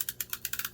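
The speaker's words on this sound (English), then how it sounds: "I'm going to use this little tape runner." A small tape runner rolls adhesive onto paper-craft pieces of acetate and thick chipboard, giving a rapid, even ratcheting of about eight close, crisp clicks.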